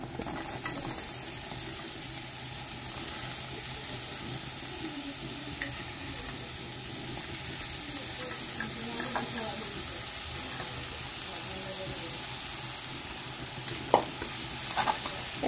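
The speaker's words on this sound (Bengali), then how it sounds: "এখন একটু সুন্দর করে নেড়ে চেড়ে নিব" Chopped beans and carrots are stir-fried in a pan, producing a soft, continuous sizzle with faint, occasional spatula scrapes as they are stirred.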